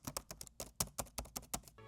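Fingers type quickly on an Apple computer keyboard, a close, soft run of about a dozen tapping keystrokes in an even rhythm, with little clickiness and no talking.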